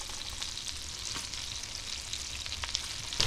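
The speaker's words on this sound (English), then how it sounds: "build a caramel sauce in the pan with the apples cooking in there" Apples cook in a generous amount of butter in a pan for a caramel sauce, giving a steady, close sizzle and crackle with faint stirring scrapes throughout and no voices.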